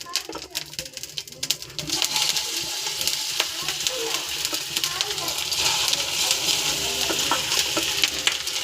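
Pieces of taro root (seppankizhangu) frying in a pan give a steady, close crackling sizzle that runs throughout with no breaks.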